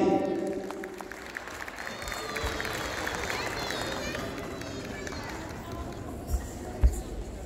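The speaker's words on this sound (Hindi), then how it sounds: "आपकी भरपूर तालियों में जनाबे सावल अब्बासी" An audience at a Pakistan Day poetry gathering applauds as a poet is introduced, a broad wash of clapping and crowd noise with scattered voices, with a couple of louder knocks near the end.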